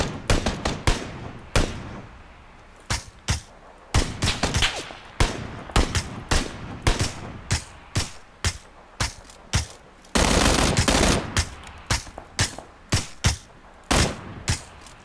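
Rapid bursts of gunfire from the PUBG battle royale video game, loud and close, with repeated sharp volleys and short pauses, including one sustained stretch of continuous fire, with no talk over it.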